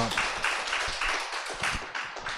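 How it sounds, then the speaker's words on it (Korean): An audience applauds at the end of a university lecture on East Asian Buddhism. The clapping is steady and moderately loud, with a crowd of hands patting rhythmically for a few seconds. "다시 한번 박수 부탁드리겠습니다"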